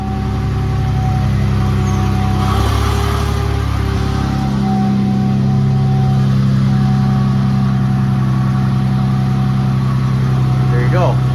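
A New Edge Ford Mustang V6 idles close by through a newly installed exhaust, a loud, steady low hum with a slight rise midway that continues throughout.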